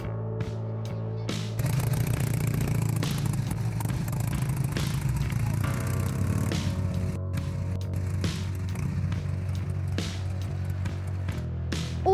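A Harley-Davidson Sportster's 1000 cc V-twin runs steadily and loudly after a brief start, a deep throbbing idle that holds for about ten seconds with no talk.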